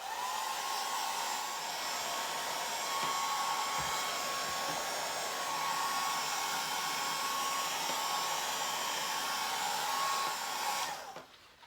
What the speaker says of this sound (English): I want to hit that with the hairdryer again